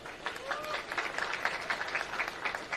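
A crowd at an outdoor political rally claps steadily, a fairly faint, distant patter of hands with rhythmic surges, and a voice carries over it in places.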